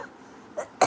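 An elderly woman in an old-age home gives two short coughs, the second louder and harsher, after a quiet pause.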